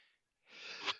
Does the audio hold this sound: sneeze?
yes